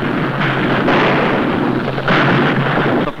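Artillery fires a protective barrage in a 1937 Shanghai wartime newsreel, a loud, continuous roar of blasts and rumbling that swells in two heavy surges, with no voices over it.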